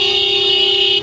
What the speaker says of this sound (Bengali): দেন হর্ন দিতেছি, শুনেই না